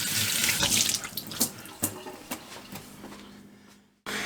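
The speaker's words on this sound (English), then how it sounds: "I just washed my hands" A running sink tap pours water while hands are washed beneath it, a close, steady splashing broken by brief rubbing and patter before the flow cuts off near the end.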